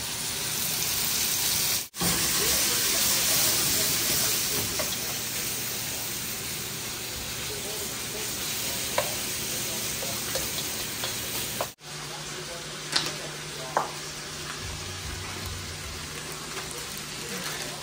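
Samgyupsal pork belly sizzles and spits while it cooks at home. The dense, crackling frying hiss is steady and fairly close, with a few sharp pops and brief gaps, and a voice speaks faintly underneath.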